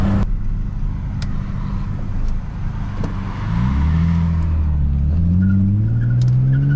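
A drifted Infiniti G35's engine revs up in rising sweeps during a drive, with a loud low drone and a sharp click at the start.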